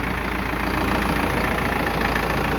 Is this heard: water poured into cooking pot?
no